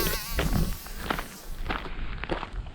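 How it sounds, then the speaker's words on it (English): A bee buzzes and hovers close by in a small castle garden at Tintagel in Cornwall, a wavering whine over outdoor noise and a few footsteps, with no talk. "Move it, bee."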